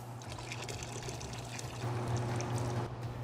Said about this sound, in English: open the draw valve to draw off all of the sanitizing solution